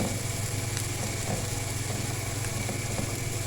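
Finely chopped onion frying in a pan as part of a creamy potato chicken kebab snack, giving a steady, even sizzle with a low constant hum beneath, no voices.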